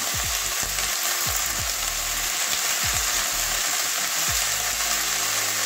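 Washed cauliflower frying in a pan over already-fried onions for a Bengali cauliflower fry: a loud, steady sizzle with low knocks and scrapes from stirring, no talking.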